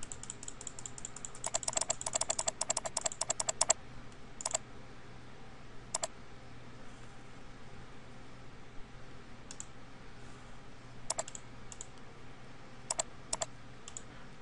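Typing on a computer keyboard to enter text in Microsoft Publisher, with a quick burst of rapid key clicks at the start, then scattered single taps spread across a quiet background.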